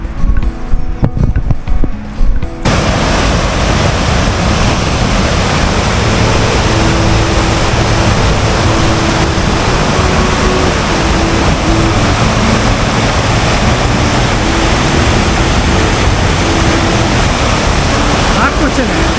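Steady broadband rushing of water near a cave on a mountain trail, loud and constant for most of the clip after a short quieter opening, with faint voices underneath.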